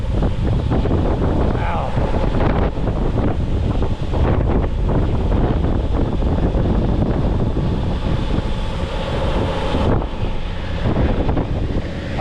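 Strong outdoor wind buffets the microphone in a steady, loud, low rumbling roar that barely lets up, with a brief exclaimed word from a person partway through.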